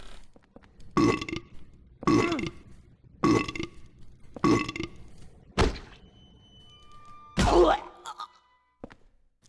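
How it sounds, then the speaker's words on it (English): The burping nurse monster in Silent Hill 4's hospital gives a series of loud, deep, guttural belches, four evenly spaced, then a thud and a longer croaking burp, close and alone. "Say hello to the patient monster. Otherwise known as the burping nurse."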